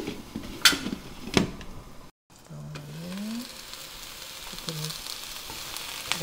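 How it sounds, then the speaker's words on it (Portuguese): Fresh spinach wilting in a covered pan gives off a steady soft sizzle and frying crackle, with a few clicks and light clatters of cookware. A brief gap of silence breaks it. "Espinafre eu vou dar só uma abafadinha aqui na panela."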